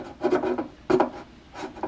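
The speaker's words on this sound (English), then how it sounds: "I'm just trying to scrape it off." Wood is scraped off a model ship part in short close rasping strokes, two main pulls and a lighter third, with no talk.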